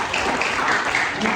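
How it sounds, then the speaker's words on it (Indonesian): Applause from a lecture audience at a university public lecture on green investment, steady and fairly loud clapping filling the whole moment without pause. "Tepuk tangan dulu dong."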